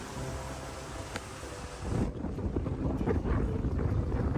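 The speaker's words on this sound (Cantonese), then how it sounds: "但係你都聽到其實啲風呢都仲係呼呼聲嘅。" Strong wind blows across a seaside stone breakwater at a Sai Kung typhoon shelter, a steady whooshing rush that swells louder and gustier about halfway through, with no voices.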